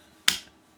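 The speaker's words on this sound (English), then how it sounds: "when you heard the finger snapping on stage" A single finger snap on stage, one sharp, crisp click that stands alone against near silence and decays quickly.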